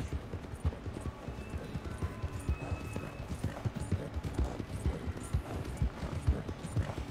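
Rapid hooves clip-clop in a steady galloping rhythm, loud and continuous, with a brief high whinny tone in the background, from a horse in the video game Red Dead Redemption 2.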